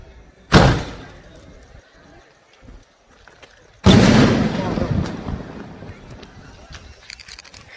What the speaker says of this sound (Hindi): अभी पटाखे जलाते हैं